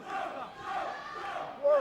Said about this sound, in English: You hear some chanting in the background.